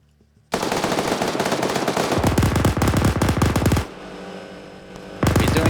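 A 7.62 machine gun fires in a video game in loud, rapid sustained bursts. Two long strings of fire are broken by a brief lull, then a fresh burst begins at the end.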